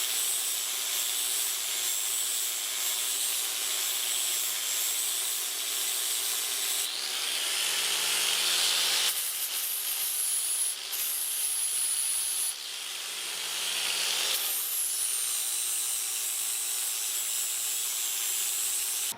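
A grinder works back a weld on a shortened trailer axle, giving a steady, loud abrasive whine and hiss that briefly dips and shifts pitch as the disc moves across the metal.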